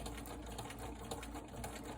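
A sewing machine stitches fabric for a remote control holder, a fast continuous rattling hum with no pauses, fairly quiet and close.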